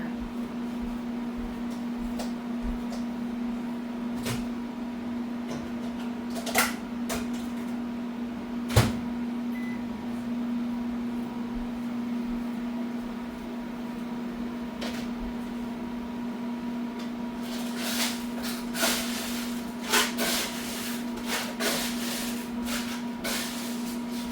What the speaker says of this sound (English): So I'm going to go microwave the leftovers to add into here.